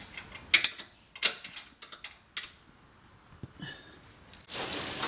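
A socket wrench ratchets on a sway bar bolt under a 2010 Chevrolet Camaro SS during an Eibach anti-roll kit install, giving several sharp, separate clicking bursts spread over a few seconds, fairly close, with no talk.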